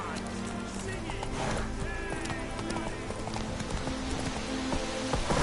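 Roach the horse galloping in The Witcher 3, a rhythmic clip-clop of hooves running steadily under ambient game sound, with a voice talking over it.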